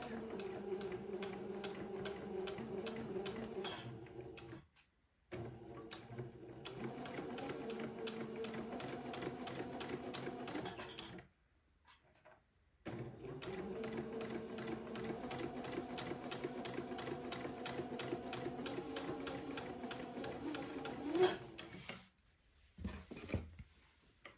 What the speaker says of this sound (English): using a 1/8 inch seam allowance, I'm going to sew the next pleat.